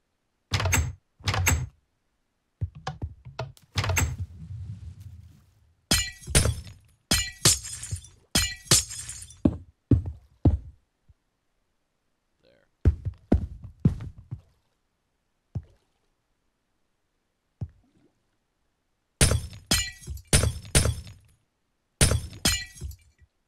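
Glass blocks being broken in the Minecraft video game, with repeated sharp crunching shatters in quick bursts, separated by silent pauses and sparse single breaks.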